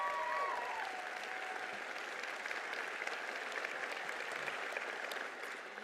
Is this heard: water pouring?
no